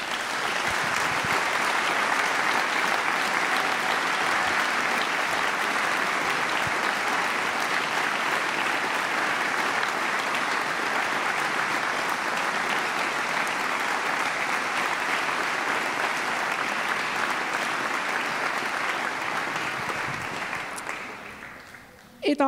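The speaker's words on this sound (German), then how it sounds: "das ist euer Applaus" A concert audience in an arena gives a long, sustained round of applause, dense and even clapping that holds steady at full strength before cutting off abruptly at the end.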